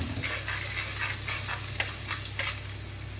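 Masala sizzles and fries in hot oil for a spicy crab gravy, a steady close crackle with soft scraping stirs every few moments; no voices.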